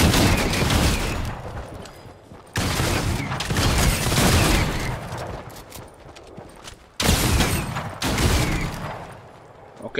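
Primal shotgun blasts in Fortnite, three loud, close shots with sharp attacks, each followed by a long decaying rumble, spaced a few seconds apart.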